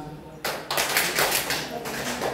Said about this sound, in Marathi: हाताची टाळी घ्या